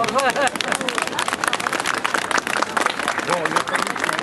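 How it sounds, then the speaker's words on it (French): A crowd packed into the stands at Notre-Dame in Paris breaks into dense, sustained applause, steady clapping from many hands with voices mixed in throughout. "On applaudit, bien sûr."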